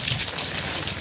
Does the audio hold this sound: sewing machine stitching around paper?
no